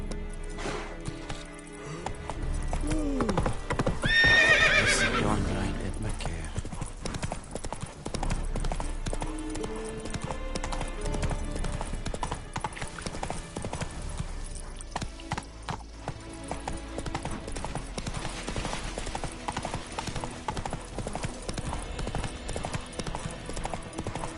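Roach the horse galloping in The Witcher 3 on PS5, a rapid, steady clip-clop of hooves continuing throughout over game ambience and music, close and fairly loud.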